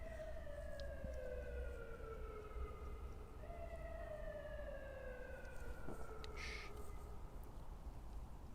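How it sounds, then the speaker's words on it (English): Emergency sirens wail in the distance, overlapping rising and falling tones sweeping slowly over a steady background rumble, with no talking. "You hear the sirens?"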